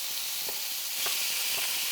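Constant loud sizzling and crackling of chicken frying in a hot pan, with occasional soft pops over the steady hiss.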